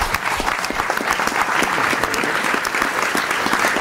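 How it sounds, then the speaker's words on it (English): A live event audience applauds steadily for a guest being introduced on stage, dense sustained clapping filling the room at an even, fairly loud level throughout, with no speech over it. "Lee, please, a huge round of applause for Lee Prankster."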